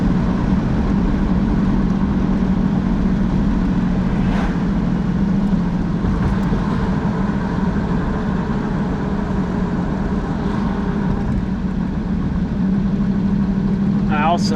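A 1937 Buick street rod with a new BluePrint Engines 350 crate engine drives along, its loud, steady low engine drone continuous and close, with a voice speaking over it at times.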